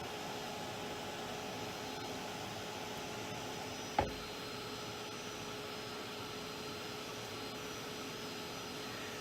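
A heat gun blows a steady, loud airy roar with a faint hum, broken once by a brief knock partway through. No one speaks.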